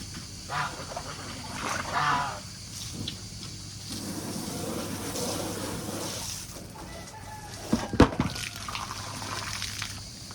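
Clean water splashes and pours in short bursts close by into a chicken waterer on a hot day, with chickens clucking softly in the background and a sharper splash near the end.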